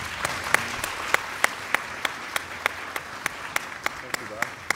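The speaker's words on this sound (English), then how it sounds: "And I think they deserve a round of applause." Applause for panel speakers at the NBC 2016 business event, heard as a few distinct, evenly spaced claps ringing out over a quiet room, fairly close and regular.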